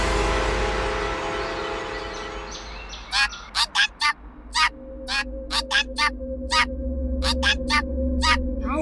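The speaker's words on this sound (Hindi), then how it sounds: "तोता इतना चिल्ला क्यों रहा है?" A parrot lets out a series of loud, harsh screeches in regular bursts, about a dozen sharp calls close by over a low droning background hum.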